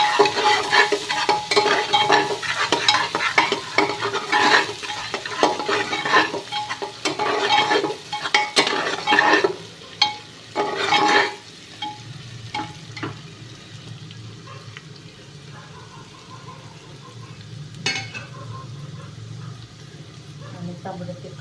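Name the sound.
garlic roasting in a pan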